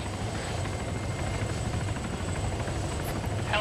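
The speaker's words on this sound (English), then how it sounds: "Helicopter's landing." Helicopter landing in a military video game, a loud steady rotor thrum with low rhythmic chopping that fills the whole moment without voices.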